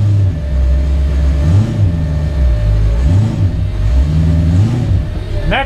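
A car engine with a 2.5 stall torque converter and a transmission cooler revs as light throttle is applied in drive, a steady loud rumble rising and falling in waves.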